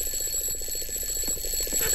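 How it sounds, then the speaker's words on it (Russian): Alarm clock ringing in the Roblox horror game Doors, set in a mine, a fast rapid beeping trill repeating steadily and fairly loud over a low ambient hum. "Будет ли он прыгать на мой будильник?"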